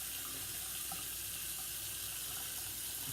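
Tap water runs steadily while a Filarmonica straight razor is rinsed beneath it, a soft constant splashing hiss with no pauses.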